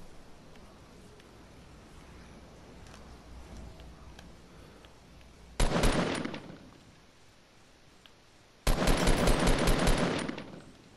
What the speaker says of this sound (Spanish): Están disparando no sé a dónde, eso no me gusta